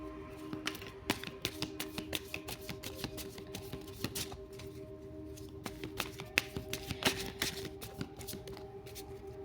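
Tarot cards are shuffled by hand in soft, quick, repeated riffling clicks and taps, quiet and close, continuing steadily without talking.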